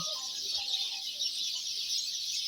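Sparrows chirp at dawn in a tree in Israel, a dense, unbroken chorus of many birds, loud and steady throughout with no voices.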